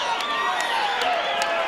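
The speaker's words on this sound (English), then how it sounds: "You see the crowd reaction." A crowd at a cornhole tournament cheers and whoops after a game-tying shot, a loud sustained roar of voices with shrill shouts rising above it.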